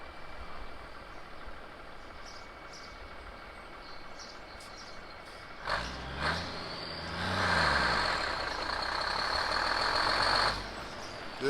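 A Big Cam Cummins diesel in a Binder pulling truck revs hard after a fuel increase, a loud roar swelling sharply midway and holding high before dropping off, with no talking.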